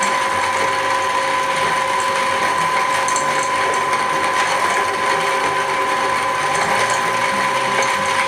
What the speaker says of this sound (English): This is a coffee bean grinder that somebody gave me.